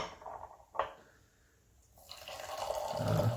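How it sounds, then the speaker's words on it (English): Water is poured over loose Liubao tea to rinse it, starting with faint drips and a small splash, then building into a steady, gentle pour that grows louder toward the end. "let's give it a brew. And I will definitely rinse this tea."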